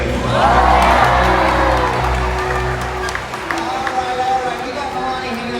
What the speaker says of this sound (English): let's give her a great big cheer!